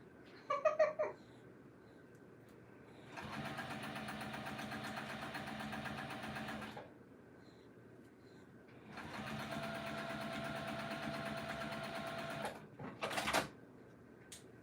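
A sewing machine stitches the long edge of a fabric apron in two steady runs of about four and three seconds, with a buzzing motor and rapid needle rhythm, separated by quiet handling noises and followed by a brief clatter.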